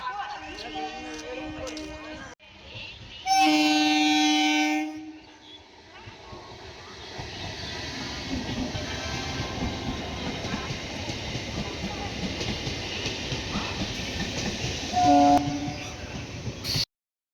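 A train rumbles and clatters along, with a loud horn blast early on and a shorter honk near the end.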